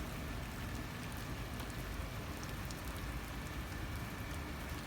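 Heavy rain pours steadily on Elm Street in Kearny, New Jersey at night, a dense, constant hiss of drops hitting surfaces nearby with no break.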